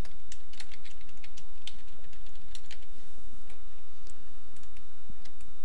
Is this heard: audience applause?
no